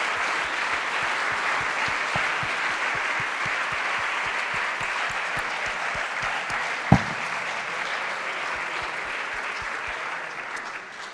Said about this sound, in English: And I think we can have a second round of applause for this.